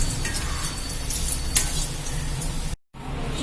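Pieces of elephant foot yam fry in hot oil with a dense, steady sizzle and occasional stirring scrapes, then the sound cuts off briefly before the bubbling returns.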